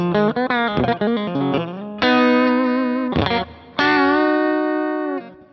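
Electric guitar runs through a Fulltone OCD overdrive profile on a Kemper amp, giving a loud, gritty distorted tone: a quick burst of picked notes, then several long sustained chords separated by short gaps, with no voices.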